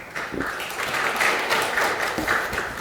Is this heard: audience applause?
yes